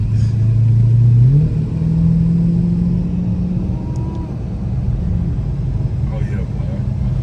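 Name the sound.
Dodge Hellcat car accelerating hard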